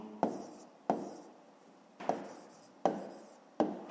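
Five short scratchy strokes of a pen or pencil on paper, spaced unevenly and close by, each with a quick onset and brief fade as an answer is written by hand.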